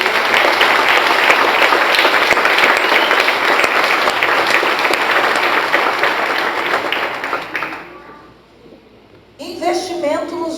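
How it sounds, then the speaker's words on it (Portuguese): Loud, dense applause from a large audience at a Brazilian church cell-vision congress in Paraná, filling about eight seconds before fading into near silence, after which a voice begins speaking over a quiet hall. "Você pode dar um aplauso ao Senhor?"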